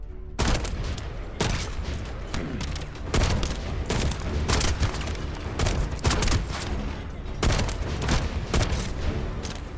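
Sustained gunfire in The First Descendant, repeated dense volleys of rapid shots coming in regular waves over about ten seconds, loud and close with brief gaps between bursts.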